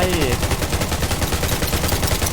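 Rapid, loud automatic gunfire in the survival shooter Undawn, a dense rhythmic stream of close shots filling the short clip without pause.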